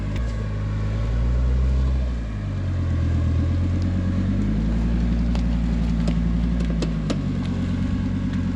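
A turbocharged five-cylinder Volvo engine of over 300 horsepower climbs a rocky off-road trail, its steady loud rumble swelling and settling as the throttle varies, close and continuous with no talk.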